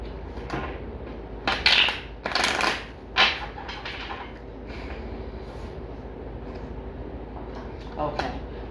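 A deck of tarot cards is shuffled close up in a few quick rustling bursts, followed by quieter handling, in an otherwise calm room.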